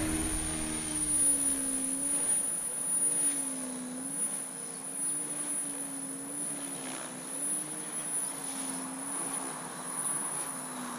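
A SAB 420 RC helicopter with its main drive motor flies nearby, a steady whining rotor and motor drone that wavers slightly in pitch throughout, heard alone without talk.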